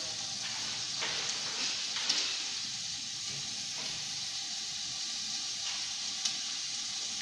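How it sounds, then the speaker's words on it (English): Soft, constant sizzling hiss from a pan, fairly quiet, with a few faint clinks and crackles popping up now and then. "Can you all hear that sizzle?"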